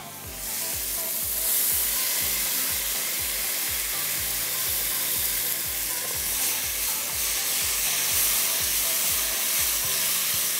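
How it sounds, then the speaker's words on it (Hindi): Lentils hit a pan of frying tomatoes and spices for a moong dal khichdi, giving a loud, steady sizzle and hiss with rhythmic stirring scrapes throughout, close up and without speech. "अब इसी में मैं दाल को शामिल कर देती हूँ।"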